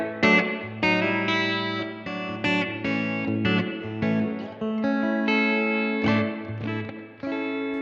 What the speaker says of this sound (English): I'm going to put a spring reverb on